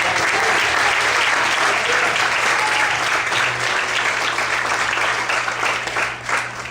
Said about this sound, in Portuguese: Você pode aplaudir ao Senhor nesta noite.